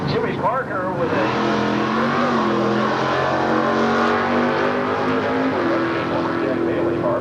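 A 1969 Chevrolet with a 350 Chevy small-block V8 racing down a drag strip under NHRA Stock Eliminator rules, its engine roaring loud and sustained as it climbs through the gears, with shift steps audible along the way.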